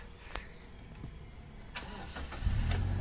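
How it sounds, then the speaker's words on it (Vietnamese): A 2015 Toyota Fortuner full TRD SUV engine turns over after a few faint clicks and knocks, then catches and settles into a low, quiet idle. "máy nổ này em thin thít luôn"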